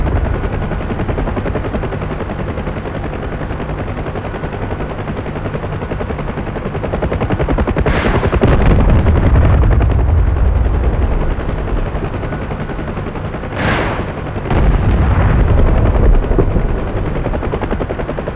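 A UH-1 Huey helicopter in DCS World drones with a steady rotor thump and turbine hum at close range, interrupted by two bursts of door-gun machine-gun fire.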